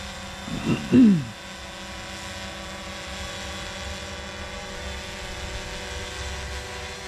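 A Fimi X8 SE quadcopter drone hovers and descends onto a landing pad, its steady propeller whine holding at a constant level throughout, with a brief louder swell near the start.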